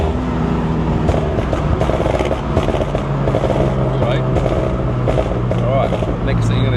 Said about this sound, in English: first thing I'm going to show you is the burble. So it's on the gas and lift.